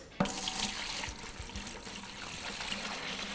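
Epoxy floor primer, part A, poured from its can in a steady stream, a close continuous liquid pour with a sharp start, no talking over it.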